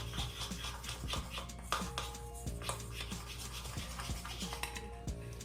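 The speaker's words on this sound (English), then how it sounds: "Always use a fork to mix up." A fork mixing something in a bowl makes steady, close scratching and scraping strokes with a few small clinks, continuous for several seconds with no speech.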